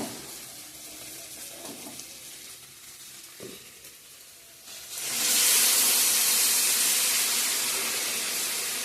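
Water poured into a pan of fried chicken curry sets off a sudden, loud, sustained hiss and sizzle, following a few seconds of quieter frying with light stirring clinks.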